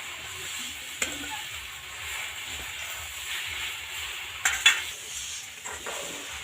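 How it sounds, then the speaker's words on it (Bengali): Homemade puffed-rice sweets simmer in boiling sugar syrup, a soft, low bubbling and hiss with a couple of sharp clinks from a utensil touching the pot. "মিষ্টিটা দিয়ে কিন্তু এইভাবে দুই মিনিটের মতো রান্না করে নেব"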